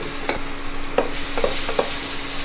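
Onions and ginger-garlic paste frying in a cooker for village-style country chicken curry, a steady broadband sizzle with a few sharp stirring scrapes, close and moderately loud, no voices.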